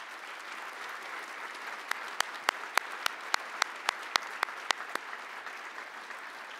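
Applause for the Attorney General at a 2018 Project Safe Neighborhoods event: a steady audience applause with a string of sharper individual claps standing out midway, moderately loud, with no talk over it.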